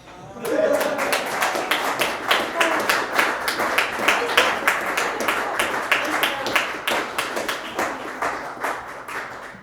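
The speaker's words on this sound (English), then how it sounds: "It's over, you can clap." Audience at a cello recital in a venue breaks into applause after a piece, rapid overlapping claps swelling quickly and holding steady and close, with a voice briefly audible at the start.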